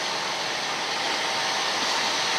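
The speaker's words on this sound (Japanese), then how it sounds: "電車が来ると" Steady broadband rumble and hiss of a train arriving at a station in Tokyo, constant and fairly loud throughout, with no voices.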